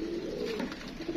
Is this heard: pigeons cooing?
yes